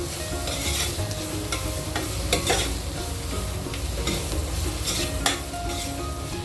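Egg curry masala with salt sizzles and fries steadily in a pan while a spoon scrapes and stirs it in repeated strokes, with a few sharper clinks of utensil on metal, close up and with no talk.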